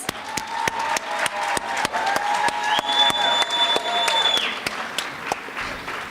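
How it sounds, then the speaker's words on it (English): Audience applauding a choir at a Martin Luther King Day celebration held by a school district, a steady dense wash of many hands clapping throughout, fairly loud and close, with no talk over it. "Let's give the choir another round of applause."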